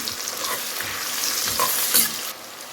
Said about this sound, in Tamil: இப்போ நல்லா கிண்டி விட்டுடலாம்.